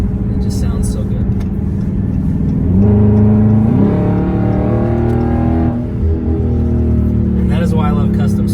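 A 2021 Dodge Charger Scat Pack in custom drive mode, its V8 engine and exhaust rumbling loudly, rising through a rev and then holding a steady drone before dropping back on a downshift, with a voice speaking over it.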